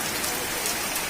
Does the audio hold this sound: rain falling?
yes